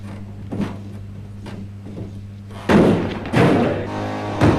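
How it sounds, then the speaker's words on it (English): A two-man battering ram strikes a multi-point locking wooden security door, giving two heavy, booming thuds close together after a quieter stretch of faint knocks. "The 2-man ram proved to be useless against the resilient multi-point locking wooden door"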